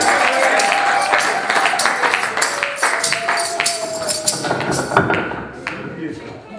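A church congregation claps and cheers for the Lord at a New Year's Eve service, dense sustained applause with voices calling out over it, loud and close, slowly tapering toward the end.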